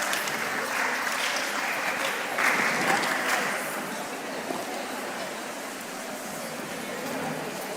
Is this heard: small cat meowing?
no